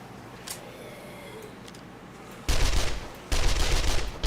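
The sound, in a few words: SMG-5 gunfire in video game 7 Days to Die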